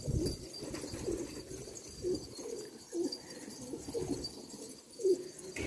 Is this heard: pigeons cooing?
yes